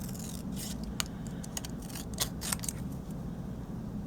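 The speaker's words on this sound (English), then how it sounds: "So just kind of cut across. And then I cut out the word Christmas." Scissors snip through card stock during a Christmas papercraft project, a run of sharp, close cuts scattered over a few seconds above a steady low background hum, with no talking.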